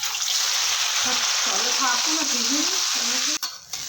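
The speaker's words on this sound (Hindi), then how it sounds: "हींग डालने के बाद ये जो भिंडी और मैंने आलू कट करके रखे थे वो डाल दूँगी।" Chopped okra and potato pieces dropped into hot oil with asafoetida, bursting into a loud, close, continuous sizzle with stirring scrapes, before the frying cuts off abruptly near the end.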